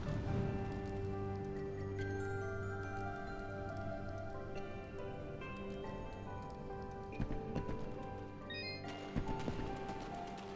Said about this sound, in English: get out of this raining death